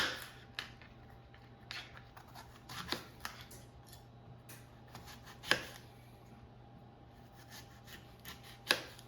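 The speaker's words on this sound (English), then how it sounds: "all we need to do is just slice the apples into slices" Knife cutting apples into slices for oven-roasted apples, with soft crisp cuts and sharp clicks of the blade meeting the board at irregular intervals over a steady low hum, close and fairly quiet.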